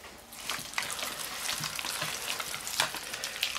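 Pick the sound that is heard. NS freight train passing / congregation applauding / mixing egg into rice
mixing egg into rice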